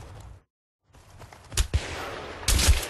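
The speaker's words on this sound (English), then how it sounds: "Explosion." Explosion in the video game Battlefield 3, a sharp blast after a brief silence followed by a second burst with lingering rumble and crackle, loud and close with no talk over it.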